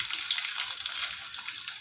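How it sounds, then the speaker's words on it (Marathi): Garlic and curry leaves hiss and sizzle steadily in hot tempering oil with mustard seeds, cumin and asafoetida, a bright continuous crackle close by with no voices. "हे सगळं छान भाजलं"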